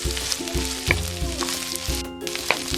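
Bitter melon (ampalaya) is stir-fried and mixed in a pan, with a loud, steady sizzle close by and a rhythmic series of scraping strokes and occasional sharp crackles as the pieces are tossed.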